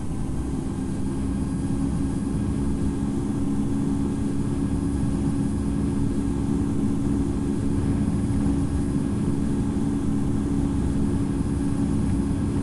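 A Boeing 777-200LR jet in the Infinite Flight video game takes off with a steady, loud, droning engine roar that holds at a constant level throughout and carries no talk.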